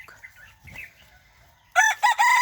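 A quiet, low murmur of broody hen sounds gives way to a sudden burst of loud, strained clucking calls near the end.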